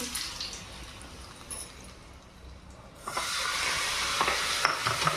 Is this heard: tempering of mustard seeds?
yes